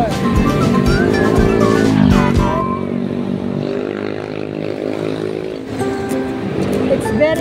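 A motorcycle speeds past on a road in Davao City, a loud, close engine roar with rising and falling pitch that surges and then fades, with people talking over it.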